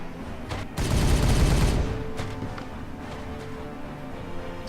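Gunfire in the video game Regicide: a dense burst of rapid shots and booms that swells for about a second, then trails off into scattered fainter cracks.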